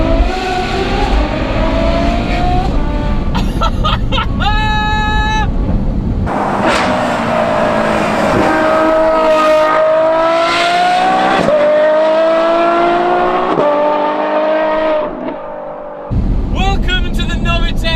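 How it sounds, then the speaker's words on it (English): A Novitec N-Largo Ferrari F12, near 800 horsepower, with a straight-through titanium exhaust: loud rising and falling revs and hard acceleration sweeps, close by and roaring, with short gaps between pulls. "an F12 with near 800 brake horsepower, and even louder straight through titanium exhaust system"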